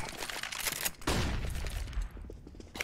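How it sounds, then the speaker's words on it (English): Gunfire in the CS:GO video game: rapid bursts of shots crackle and boom in quick succession, loud and close, with a heavy blast near the middle, and no one speaks. "Opening fire."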